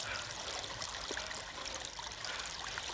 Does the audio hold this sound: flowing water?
yes